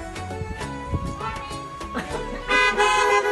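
A car horn toots several times amid a busy mix of voices and outdoor noise at a church service heard over car radios, the honks growing louder and denser toward the end.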